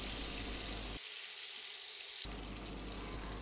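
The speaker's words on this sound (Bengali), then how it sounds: "নেড়ে পেঁয়াজ নরম হয়ে আসা পর্যন্ত ভেজে নিব।" Sliced onions sizzling in hot oil in a pan, a steady broadband frying hiss that drops away briefly in the middle and then returns louder, with no talk over it.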